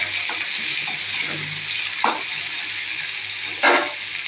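Curry leaves sautéing in hot oil in a pan for a sweet mango and jaggery dish: a steady broad sizzle throughout, with two brief louder crackling spurts, no talk.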